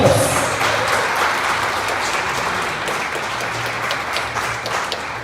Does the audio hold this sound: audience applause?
yes